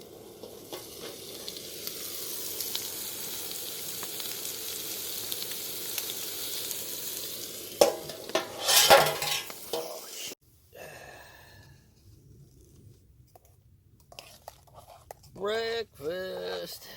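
Bacon and vegetables frying for breakfast at a woodland campsite, a steady close sizzle for about ten seconds, then sharp handling clatter and quieter crackle with brief breathy sounds near the end.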